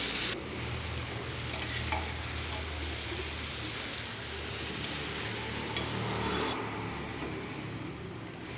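Washed rice and lentils with turmeric stirred and fried in a pan for vegetable khichuri: a continuous loud sizzle of hot oil with scraping stirring strokes and occasional sharper clinks.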